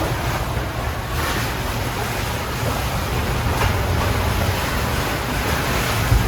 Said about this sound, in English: The wind has been pretty constant.